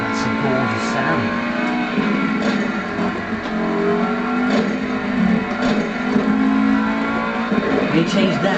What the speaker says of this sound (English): V8 coupled to a couple of active exhausts.